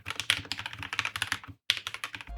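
Fingers type rapidly on a computer keyboard, a dense clatter of close key presses with a brief pause midway before the tapping resumes.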